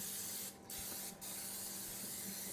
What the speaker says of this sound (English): I'm going to take some spray, and for this I really like the Pam, the butter spray